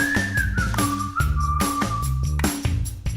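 A whistled melody of a podcast theme song over backing music, a clear tuneful line with sliding pitch carried by steady rhythmic accompaniment, with no talking.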